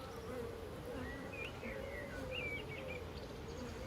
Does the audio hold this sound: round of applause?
no